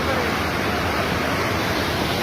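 Floodwater from a cloudburst during heavy rain rushing over a bridge, a loud, steady roar of pouring water close by with a voice faintly beneath it.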